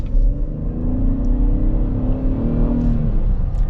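A 2023 Chevrolet Traverse Premier's V6 engine pulls in all-wheel drive mode, a steady, close drone from inside the cabin that swells and climbs in pitch as the SUV accelerates, with no talk over it.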